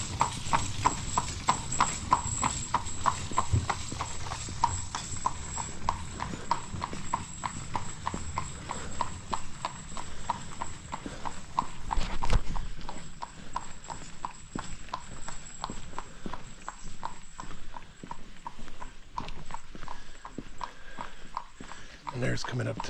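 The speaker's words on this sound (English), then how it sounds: "riding a horse." A ridden horse clip-clops steadily along a road on Inis Mor, its hooves ringing out in a continuous, even rhythm close by while someone talks over it.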